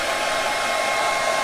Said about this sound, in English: get my hairdryer and give it a good blast.